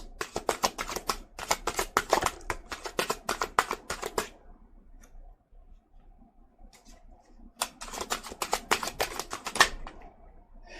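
Tarot cards are laid out and rearranged on a surface, giving rapid crisp flicks and snaps in two busy bursts with a quiet gap between them, close and moderately loud without speech.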